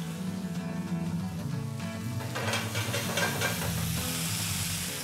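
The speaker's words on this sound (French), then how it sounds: "le fariner et le poêler au beurre" Floured squid frying in butter in a pan, a soft, steady sizzle and hiss that swells partway through as the pieces cook.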